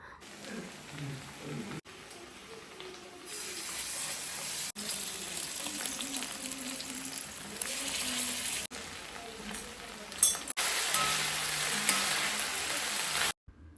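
Chicken fries in a pan with a steady sizzle that swells in louder stretches, broken by brief gaps and the odd clatter of stirring, while a voice speaks at times.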